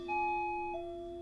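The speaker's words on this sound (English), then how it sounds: "I walk across the soft grass and press the doorbell" A two-tone doorbell chime rings once with sustained, clear tones, the pitch stepping down partway through and fading gradually, heard alone.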